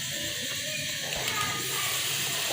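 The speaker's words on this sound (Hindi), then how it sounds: "ये लो, पानी उबलना शुरू हो गया" A steady hiss of water heating and starting to boil in a pot for amla murabba fills the clip, with a soft low bubbling and a faint whistle partway through.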